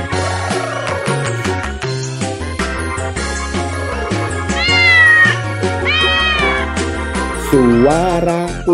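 A cat meows repeatedly within a children's song, its rising and falling cries clear and prominent over continuous music with singing and instruments.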